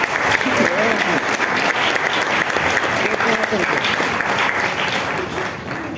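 A church congregation claps in sustained, dense applause that holds steady throughout and fades slightly at the end.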